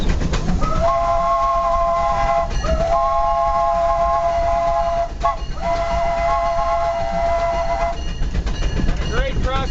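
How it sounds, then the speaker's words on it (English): A steam locomotive whistle blows loud tonal blasts at a crossing on the Disneyland train in Anaheim, two long ones and then another long one, over rumbling, clattering train noise. "Coming up to a crossing, I'll blow the whistle."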